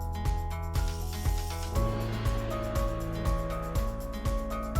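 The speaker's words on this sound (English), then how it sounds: "Using a 4mm Allen wrench, remove the stem faceplate." A 4mm Allen wrench loosens the faceplate bolts on a bicycle stem. Each turn gives a rhythmic metallic click, over a steady mechanical hum.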